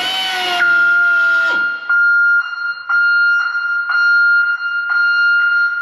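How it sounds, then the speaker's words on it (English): An alarm sounds on a 53-year-old ex-military Caterpillar D7F dozer, a loud piercing tone that pulses in repeated beeps after a sustained opening wail, heard close and alone. "the alarm's going off"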